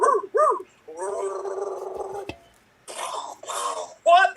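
A man imitates a dog on stage, with short whimpering yelps followed by a drawn-out howl-like whine, then more vocal noises and a brief sharp click.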